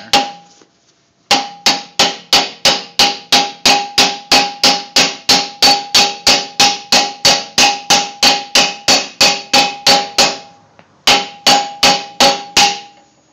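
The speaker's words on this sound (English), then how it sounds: "Now you take your bushing, pound it in there." A bushing is hammered into the thumb mount of a Bobcat excavator: loud, close, ringing metal strikes in a fast even series with a short pause before a final burst of blows.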